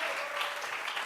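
A church congregation claps together as an offering to God, a steady dense wash of applause at moderate distance.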